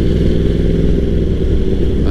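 A Yamaha R1 Anniversary Edition sport bike engine drones loudly and steadily while riding, a continuous low rumble with no clear shifts or revving peaks.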